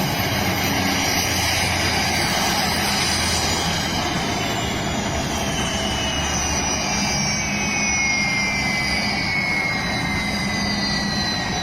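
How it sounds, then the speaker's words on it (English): A helicopter touching down ahead of a presidential arrival in Cameroon, heard as a steady, loud, broadband engine and rotor roar with a high turbine whine, continuous throughout with no talk. "this copter is touching down in preparation on how Mr. Paul Biya is going to touch down"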